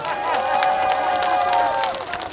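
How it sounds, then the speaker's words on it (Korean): An audience at an outdoor daily concert at the Boseong World Tea Expo claps and cheers in a dense, continuous wash of applause with crowd noise, while a voice talks over it. "박수 한번 쳐주기 바랍니다"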